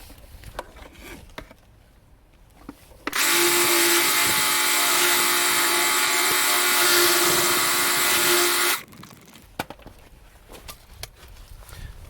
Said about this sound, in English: we'll just finish with the blast off with the pressure washer